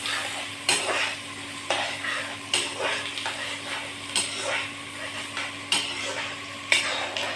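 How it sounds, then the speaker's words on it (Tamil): Onions are sautéed and stirred in a pan, a low sizzle punctuated by regular scraping strokes and spatula clacks against the metal, repeating roughly every half second to second. "இப்போ இதை வதக்கி விட்டுக்கிட்டே இருக்கலாம் ஃப்ரெண்ட்ஸ்."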